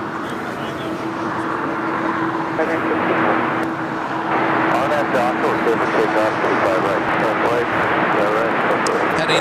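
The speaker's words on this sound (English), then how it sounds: "Next takeoff is United Airlines Flight 1621 heading to Orlando," A United Airlines 737 MAX 9 on Flight 1621 to Orlando taking off at LAX: a steady, loud jet-engine roar fills the whole stretch, with people talking over it.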